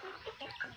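Rhode Island chickens giving a few short, faint clucks in quick succession, soft and somewhat distant.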